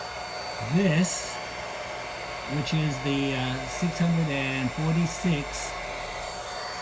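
A hair dryer runs off a 1200-watt PowerJack modified sine wave inverter and a battery, giving a constant whirring hum with a buzzy electrical edge beneath a man's close speech.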